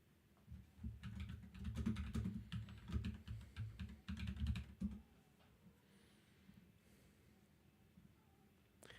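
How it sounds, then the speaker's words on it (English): Typing on a new mechanical keyboard with new switches produces a dense clatter of keystrokes for about four seconds, close and clear, then trails off into quiet with only faint room sound. "Got a new keyboard. You guys like the sound? I had to get a new keyboard. I got new switches for my keyboard."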